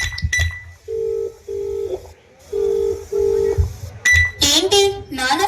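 Telephone keypad tones come first, then a ringback pattern of repeated steady tones for a call that goes unanswered, followed by brief noisy sounds at the end. There is no speech.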